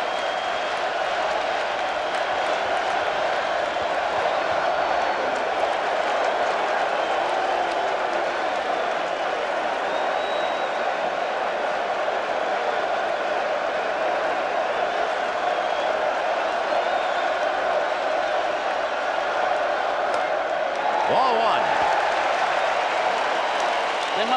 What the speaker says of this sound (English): This crowd at the Meadowlands, Vin.